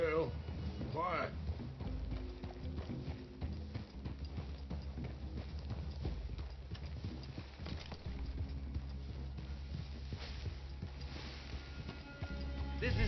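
In Red Dead Redemption 2, horses walk with a steady clip-clop of hooves, soft and continuous, under talk from characters.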